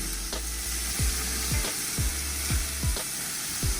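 Marinated rabbit grills on a BBQ with a steady, close sizzle, broken by soft low thumps that repeat about every half second.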